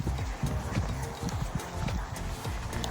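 A horse canters across a cross-country eventing course, its hooves thudding in a rapid, regular rhythm close by under wind and faint voices.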